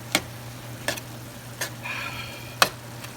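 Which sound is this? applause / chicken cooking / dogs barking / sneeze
chicken cooking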